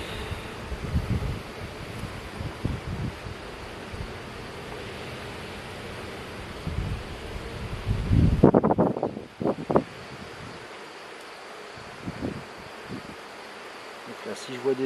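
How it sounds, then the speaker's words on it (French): Gusty wind buffets the microphone in uneven rushes during a beehive inspection, strongest midway, over a faint constant buzz of bees. "Là le vent se lève"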